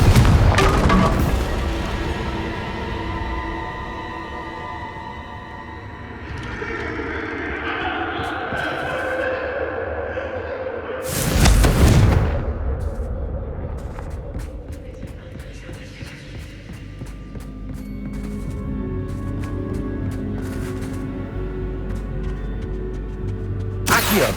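Explosive spell blasts from Bombarda and Confringo in the video game Hogwarts Legacy, loud booming crashes with echoing tails amid ongoing combat noise, one heavy blast standing out midway.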